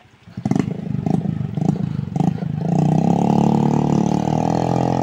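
Royal Enfield Bullet motorcycle on a muddy hill road in Nagaland, a few sharp throttle blips followed by a steady, loud thumping engine roar as it rides away close by.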